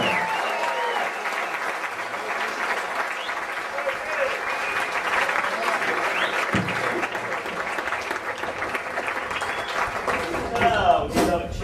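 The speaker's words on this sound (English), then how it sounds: "A round of applause." Sustained crowd applause at a comedy show, dense and loud for over ten seconds, with scattered cheers and voices rising through it.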